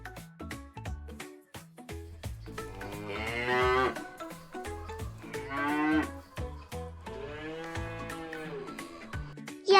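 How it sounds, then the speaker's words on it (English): A farm cow mooing, several long drawn-out calls rising and falling, loud and close with no talking. "Yes, this is a cow."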